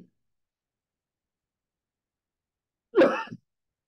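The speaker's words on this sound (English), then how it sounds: "Sorry for the coughing." A single short cough or throat clearing comes during a mathematics lecture on orthogonality. It is one quick, moderately loud burst after a long stretch of near silence.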